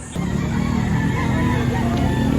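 Young rooster (stag) at a gamefowl farm in Batangas, clucking and calling in a steady, close, fairly loud stretch with no talk, set against a constant low background hum.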